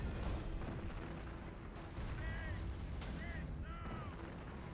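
Mortar rounds from enemy mortar teams thumping and booming in a war video game, several heavy blasts amid rumbling battle noise, with a player talking over it.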